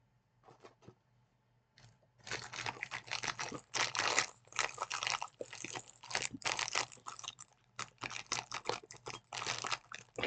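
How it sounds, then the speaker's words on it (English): A crinkly plastic snack bag packed full of zesty pizza crackers is squeezed and tugged in close, loud bursts of crackling and rustling that keep going after a few quieter opening crinkles. "I can't get a hold of it to open it because it is so full"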